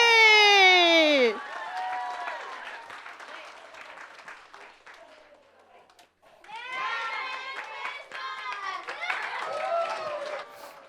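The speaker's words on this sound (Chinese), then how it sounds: "我们掌声谢谢我们的小熊班" An audience at a church Christmas celebration claps for a children's class, with a loud burst of mixed applause and voices following a whistle-like tone, fading briefly before rising again into sustained clapping and chatter.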